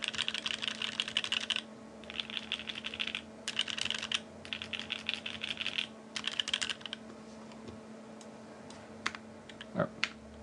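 Fast bursts of clicky keyboard typing come in uneven runs with short pauses, ending in a few louder, isolated key taps.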